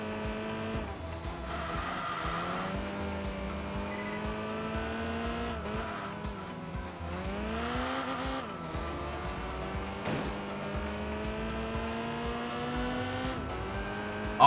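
Car exhaust note reverberating inside a tunnel in the racing game Enthusia Professional Racing, a steady droning engine tone rising and falling with gear changes, continuous and fairly loud throughout with no talking.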